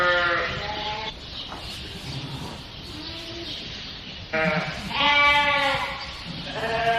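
Mature ewes bleat repeatedly in a flock, several overlapping calls at close to moderate distance, with quieter gaps of low background noise between bursts.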